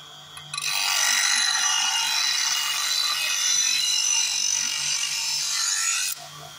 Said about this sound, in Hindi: हल्का सा ग्राइंड करना और तुरंत उसका बेवलिंग करना.